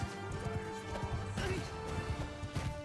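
Horse hooves pounding in a cavalry charge in the medieval combat game Mount and Blade 2 Bannerlord, a rapid clip-clop mixed with clashing battle noise and a steady layer of game sound and music.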